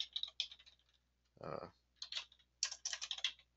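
Bursts of rapid typing on a computer keyboard, quiet and close, separated by short pauses, with a brief low voice or hum in the middle.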